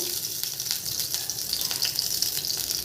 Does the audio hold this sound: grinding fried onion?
no